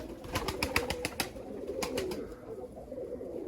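Pigeons flying low near their keeper, a quick series of sharp wing claps followed by softer flapping and faint cooing, fairly close, with no talking.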